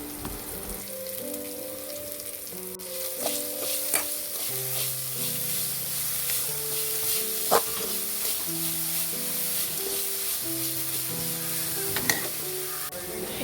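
Chopped banana flower fries and is stirred in a pan for thoran, a constant close sizzle with periodic scraping stirs and occasional metallic clinks, under a faint steady musical backing and no speech.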